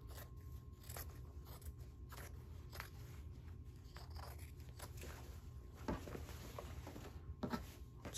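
Scissors snip steadily through a dress shirt being cut apart for quilting, a run of quiet, close crisp cuts and fabric rustles over a low background hum.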